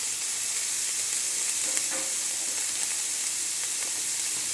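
Onion and bell pepper sizzle steadily in a frying pan for a Tex-mex beef penne, a continuous close hiss with a few faint stirring scrapes.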